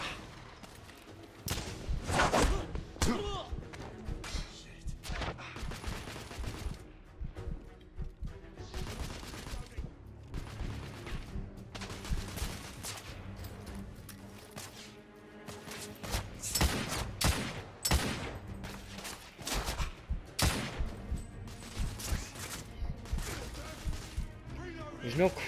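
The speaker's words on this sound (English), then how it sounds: "I like this hand cannon gun." Repeated heavy hand cannon blasts in The Order: 1886, loud bursts scattered through dense game combat with other gunfire, crashes and music, a voice talking over much of it.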